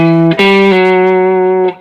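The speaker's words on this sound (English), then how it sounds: "Sliding into chord tones." An electric guitar plays distorted notes that slide up into sustained chord tones, with a clear pitch glide into a held note and a final restrike before fading.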